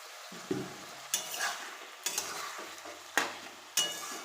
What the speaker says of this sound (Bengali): ভালো করে নেড়ে নেবো এমনভাবে। এবার আমি অল্প পরিমাণে জল দিয়ে দেবো।